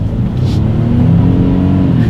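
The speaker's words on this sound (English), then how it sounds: "let's do a quick little acceleration, see how quickly we can get the new 2018 F-150 here up to speed" A 2018 Ford F-150 with the 3.5-liter EcoBoost V6 accelerates hard, its engine note rising as a loud, steady close-up drone with no break.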